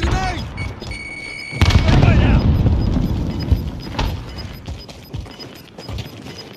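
A grenade goes off in Call of Duty: Warzone: one sudden loud, close blast with a long rumbling tail that slowly fades under the game's background sounds.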